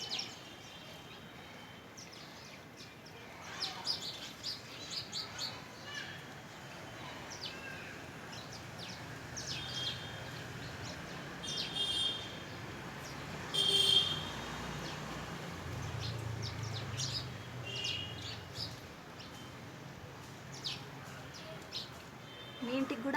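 Sparrows chirp on a home terrace while pecking at scattered rice, with soft, scattered high tweets repeating at a moderate distance over a low background hum and occasional quiet speech.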